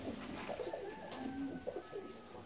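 Fancy ornamental pigeons coo softly in low, repeated throaty calls, fairly faint against a quiet background hiss.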